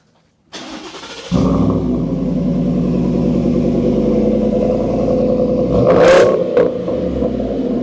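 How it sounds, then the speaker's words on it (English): A Ford F-150 pickup truck with an AWE aftermarket exhaust cranks and catches, then settles into a loud, deep rumbling idle, with a sharp rev blip partway through before dropping back. "let's go ahead and take a listen with the first startup for this AWE exhaust"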